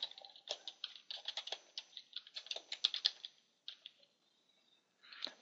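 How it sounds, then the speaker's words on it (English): Keys clacking on a computer keyboard while text is typed between shortcode tags, a quick uneven run of close, light taps that thins out and stops near the end. "you type your text"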